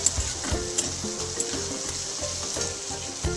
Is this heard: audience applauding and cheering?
no